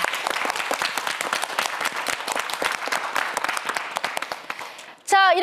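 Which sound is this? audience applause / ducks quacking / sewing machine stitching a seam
audience applause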